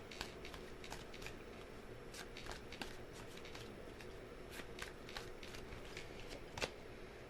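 Tarot cards being shuffled in three short bursts, a soft papery riffle and flutter with crisp snaps, close and quiet over a faint steady hiss, with no talk.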